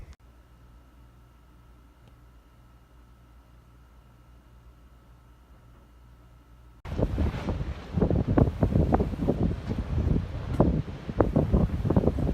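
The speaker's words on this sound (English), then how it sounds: "the wind has definitely picked up" Strong storm wind buffets the microphone in a loud, continuous roar with gusty surges, starting abruptly partway through after a quiet stretch of low steady hum.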